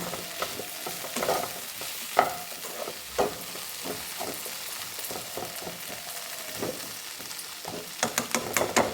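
Garlic, turmeric and salt are stirred in a hot pan, giving irregular scraping strokes and clacks of the spoon over a soft, low sizzle, with a quick cluster of strokes near the end.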